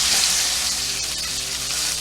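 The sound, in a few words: New York strip steak searing in hot olive oil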